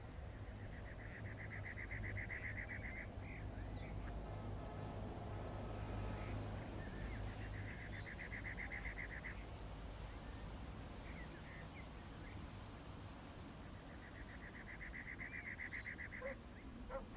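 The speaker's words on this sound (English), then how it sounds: "The ducks are already here." Ducks quacking in the point-and-click game Secret Files 2: Puritas Cordis, set on a Paris street, heard as three short, faint rattling runs of quacks spaced apart over a low steady ambient hum.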